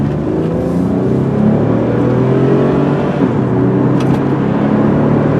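A 1999 Mercury Sable LS sedan pulls away under heavy throttle, its engine note rising in a steady, continuous drone with road and wind noise close and loud throughout, no voices.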